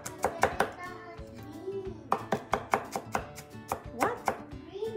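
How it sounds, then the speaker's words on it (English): A knife chops food on a cutting board while beef stew (kaldereta) is being prepared, a quick run of sharp, close, rhythmic taps in irregular bursts, with faint voice sounds in the background. "let's chop it."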